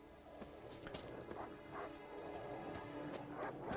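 Dogs barking and yipping as enemies in The Witcher 3 video game, several sharp barks and whimpers scattered over a low ambient game background, no speech.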